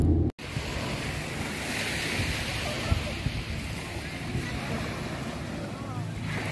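Waves wash onto Rena Majori beach at sunset, a steady, rushing surf roar with wind buffeting the microphone and a faint hint of a crowd behind it.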